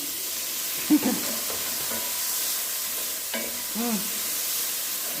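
Jamaican fried dumplings and peppers sizzle in a pan with a steady hiss, broken by a few soft knocks and stirring scrapes, close and moderately loud.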